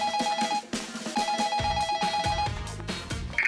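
An office desk telephone rings with an incoming call, a steady electronic ring pattern repeating loudly and alone over its short length, with no talk.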